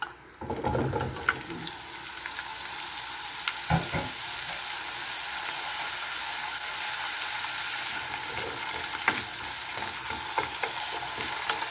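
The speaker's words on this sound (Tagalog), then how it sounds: "iprito tayo ng ating carrots and potato" Carrots and potatoes frying in a pan, a continuous crackling sizzle with occasional stirring scrapes and knocks, close and steady throughout.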